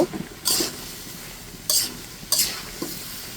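Potatoes with spices being sautéed and stirred in a pan for a light hilsa fish curry, with three sharp bursts of sizzling and scraping at regular intervals over a quieter background hiss.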